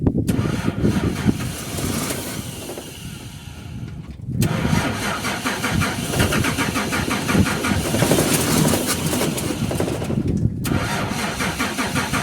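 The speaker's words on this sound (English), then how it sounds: "then try to start the car" A Nissan Patrol cranks and fires up with a bush-mechanic pipe fix, its engine catching and settling into a loud, steady idle after a brief pause, with a second restart partway through; no talking.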